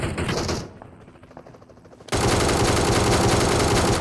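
Automatic gunfire from the mobile battle-royale game PUBG Mobile: a quieter stretch of game ambience gives way to a loud, sustained stream of rapid shots that runs to the end.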